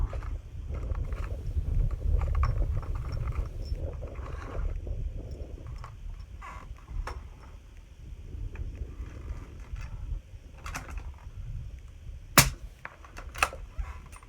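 A suppressed 300 Blackout rifle fires Silencer Co ammunition; a sharp, brief report stands out near the end, preceded by a steady low rumble and faint clicks, with a second smaller crack shortly after.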